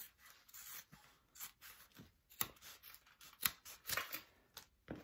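Scissors trim the fabric of a sewn-on pocket on a crossbody bag, giving close, quiet snips and rubbing cuts in an irregular rhythm.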